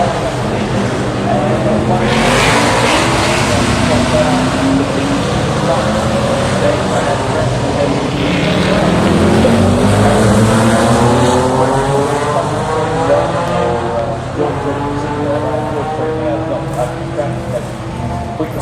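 Touring Car Masters race cars, including a Comet and a Porsche, roar past on the Adelaide Clipsal 500 street circuit. Loud engine notes rise and fall continuously as they pass, with a commentator talking over them.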